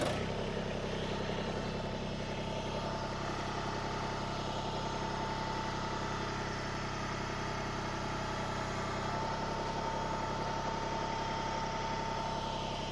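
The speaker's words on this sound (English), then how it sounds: "Let's go ahead and start this thing up and back the tractor into the cradle." An MT125 compact tractor engine runs steadily at a low idle while the machine backs into a backhoe cradle, a continuous even drone with a faint whine and no talk.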